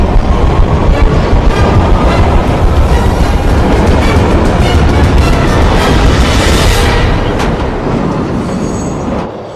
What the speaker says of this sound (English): train's leaving.